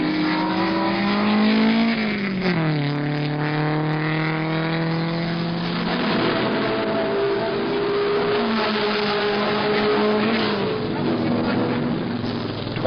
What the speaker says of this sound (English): He is now 5 miles behind the leader and in pursuit of the second-place Revson McQueen car.